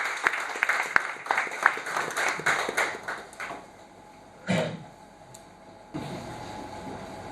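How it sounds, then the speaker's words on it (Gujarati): Seminar audience gives a short round of scattered applause that fades within a few seconds, followed by quiet room tone broken by a couple of brief bumps. "જોરદાર તાળીઓ વચ્ચે ડોક્ટર નિર્મલ ચોરાની."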